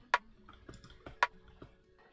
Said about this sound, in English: And then I added this like rim shot